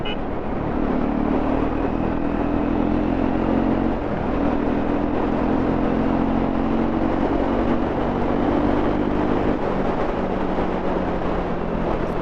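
Triumph Scrambler 400 X motorcycle exhaust droning steadily while riding, a loud continuous engine hum with rising and falling pitch as gears shift, mixed with wind rush.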